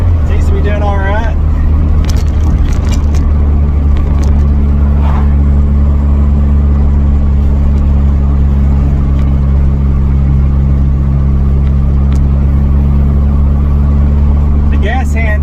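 A Honda CRX Si driving uphill, heard from inside the cabin as a loud, steady low engine drone with road rumble that holds constant throughout, with brief faint sounds here and there.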